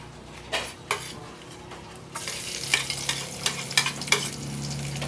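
Minced garlic fries in a hot pan while a utensil scrapes and stirs it, giving sharp metallic clicks over a crackling sizzle that grows louder after the first couple of seconds, with no voices.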